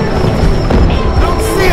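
Tac cannon firing in the video game Crysis, a heavy booming blast amid continuous loud game noise and rumble, with a voice talking over it.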